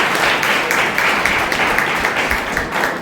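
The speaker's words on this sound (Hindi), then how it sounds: "ताली बजाने का जोरदार।" Loud, dense applause from an audience at a women's day programme at a Burhanpur centre, a sustained wash of many hands clapping with no pause through the whole stretch.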